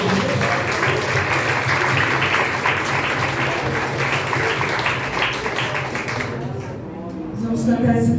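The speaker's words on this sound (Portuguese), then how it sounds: "dê um aplauso ao Senhor" A church congregation at a Holy Communion service breaks into loud, sustained applause that fills most of the moment, with voices mixed in before it fades near the end.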